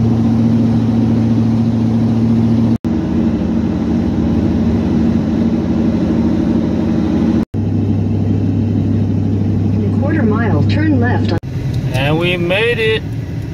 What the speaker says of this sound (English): the truck is pretty loud and the phone was picking it up